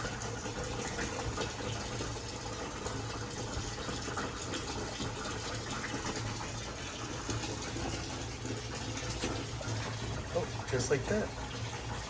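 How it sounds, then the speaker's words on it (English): Water flows steadily through a plant self-watering system, a continuous low rush throughout, while a person speaks briefly near the end. "Water's automatically flowing through."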